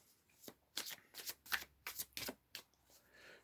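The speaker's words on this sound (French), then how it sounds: "Et donc je tiens une dernière carte." Oracle cards are shuffled by hand in a quiet room, producing a series of soft, close riffling bursts at an uneven rhythm.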